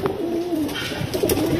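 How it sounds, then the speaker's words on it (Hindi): A pigeon coos softly and steadily nearby, a low, rolling call held for a moment against faint background noise. "ये जो कबूतर है ना ये भी भाई जीतू भाई के यहाँ से आया हुआ है"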